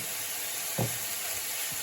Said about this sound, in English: I'm now going to allow the steak to cook here, and I will keep my stove on medium heat